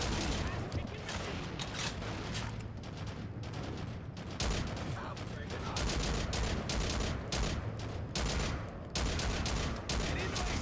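Sustained gunfire from the shooter game Haze, a dense run of rapid shots and bursts that carries on steadily for about ten seconds with no pauses, loud and close, with a few sharper cracks standing out in the second half.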